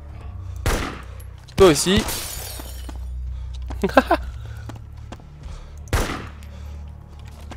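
Gunfire in the survival video game DayZ: a few sharp, loud shots spaced several seconds apart, each with a short crack and decay over game ambience, with someone talking between them.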